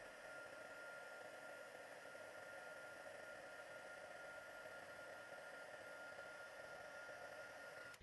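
An electric heat tool blows a steady, even hiss of hot air across embossing powder on cinnamon cider cardstock, holding at a constant close, moderate level for the whole stretch with no talk.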